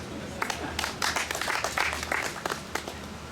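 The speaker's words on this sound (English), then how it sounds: "You clap for me, you alone." Audience applause from guests at a Maracha District celebration honouring first-grade pupils, a scattered burst of hand clapping that swells and fades over a few seconds at moderate distance.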